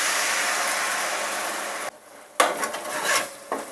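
A spoon scrapes and stirs yogurt into cooked tomatoes in a pan for egg pulao, a steady rasping swish, then a short pause and a few louder scraping strokes.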